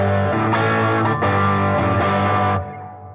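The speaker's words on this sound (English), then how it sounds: "But this amp has the distortion, right?" Distorted electric guitar through an amp strums sustained chords, with brief breaks between strums and a ringing decay at the end, loud and alone without talk.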